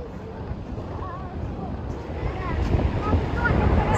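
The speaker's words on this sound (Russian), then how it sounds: "Вот сегодня северный ветер, правда, волны." Sea waves and a north wind on a beach near Baku on the Caspian Sea, with rushing wind buffeting the microphone and surf swelling louder toward the end.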